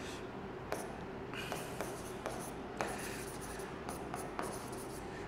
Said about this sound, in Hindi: तो फिर हम इसको स्टेटमेंट में लिखेंगे।